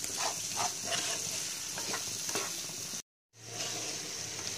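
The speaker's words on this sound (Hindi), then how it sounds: "अब हम इसमें आलू ऐड करेंगे और आलू को भी हम 2 से 3 मिनट तक फ्राई कर लेंगे" Potatoes fry with spices in a pan over a medium flame, giving a steady close sizzle with a few stirring scrapes; the sound drops out briefly near the end and then the sizzle resumes.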